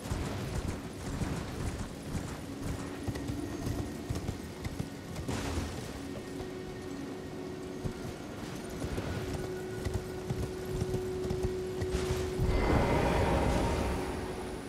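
Horse hooves galloping in Elden Ring, a steady quiet clip-clop rhythm running underneath ambient game sound and a low drone, with a few heavier thuds near the end.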